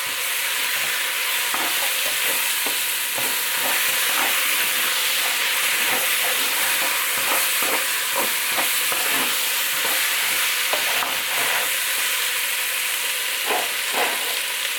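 Meat sautéing in a pan for a green bean and meat stew, a steady close sizzle and hiss of frying with frequent scraping and stirring clicks throughout, no voices.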